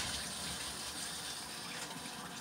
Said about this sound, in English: We got hot water.